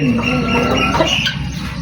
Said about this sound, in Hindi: देसी कोई मुर्गी है, मुर्गा है, ये डक है